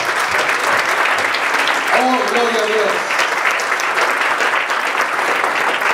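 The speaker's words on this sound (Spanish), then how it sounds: "Yo me atrevería a darle otro aplauso al Rey en esta tarde" A church congregation applauds steadily for the full stretch during a Spanish-language worship service, a dense clapping wash with one voice briefly calling out partway through.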